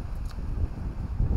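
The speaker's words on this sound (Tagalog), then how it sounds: "medyo malakas yung hangin" Strong wind gusting at the seaside, a steady low rumble of wind buffeting the microphone with no voices.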